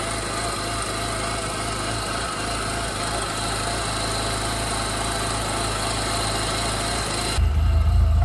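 A cheap Jeep TJ engine idles steadily with a buzzy, slightly uneven rumble, close and continuous, with an exhaust manifold issue; the tone thickens near the end.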